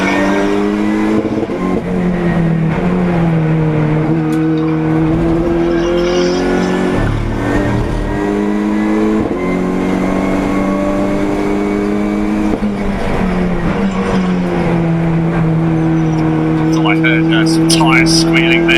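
Race cars circuit a track at the TDC Brands GP in August 2022, their engines droning steadily and loud throughout, with faint tyre squeal in places beneath continuous commentary.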